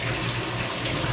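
Water gushes steadily from the twin outlet pipes of a homemade fish tank filter fed by a water pump, a close, continuous splashing pour with no voices.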